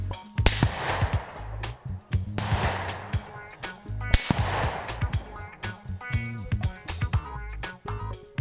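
Rifle fire at a whitetail property: a few loud, sharp reports with broad booming echoes that roll out over several seconds, mixed with rustling and low handling noise.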